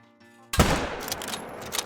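One sharp, loud crack of a 7mm bolt-action hunting rifle in Call of the Wild, breaking a near-silent pause, followed by a rolling echoing tail and faint clatter.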